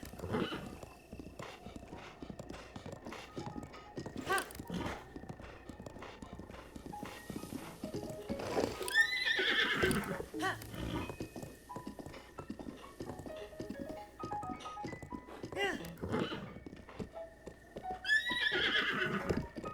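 A horse in Zelda: Breath of the Wild neighs loudly twice, around nine seconds in and again near the end, over steady clip-clop hooves and game background sounds.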